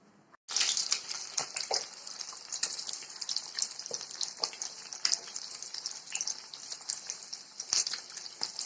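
Fish fries in a pan after a quiet start, with a bright, continuous sizzle and crackle and a few sharp pops and clinks of a utensil.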